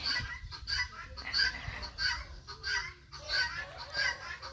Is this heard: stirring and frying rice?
no